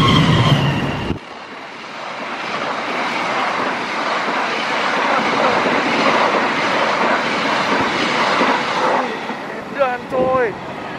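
A Taksaka express train rushes past at close range, a loud sustained roar of wheels and wind lasting several seconds, with a few brief voices near the end.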